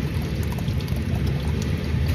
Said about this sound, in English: Just pour it in there completely.